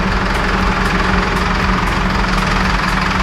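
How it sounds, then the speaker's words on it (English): A V8 truck engine with a recently repaired manifold runs at a steady idle, a loud, close, continuous low rumble with a faint rhythmic knock and no voices. "She's going to move the truck."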